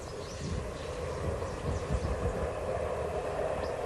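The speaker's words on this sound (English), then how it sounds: "A lot of trains going by today." Trains roll past in deep countryside beside a river on a windy day, a steady low rumble holding at even loudness throughout, with no talking.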